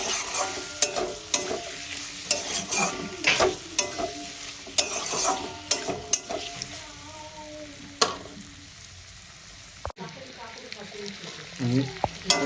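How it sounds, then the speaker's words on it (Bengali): Potatoes and sliced tomato fry with spices in a pan for a catla fish curry with ground nigella seeds, with repeated scraping stirs and clicks over a soft, close sizzle. "এবার মশলার সঙ্গে ভালো করে কষাতে থাকবো।"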